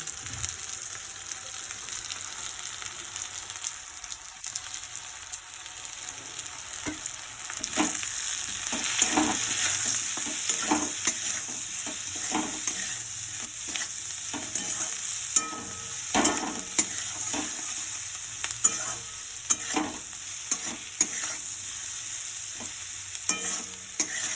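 Kashmiri chili with salt sizzles steadily in a hot pan while a utensil stirs and scrapes through it, with frequent close clinks and scrapes over the continuous frying hiss.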